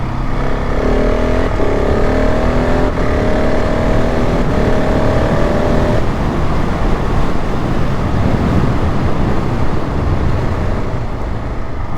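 A KTM 690 SMC R motorcycle from 2024 accelerating through the gears, its single-cylinder engine rising in pitch in repeated sweeps and then roaring hard, loud and close throughout with wind noise and no talk.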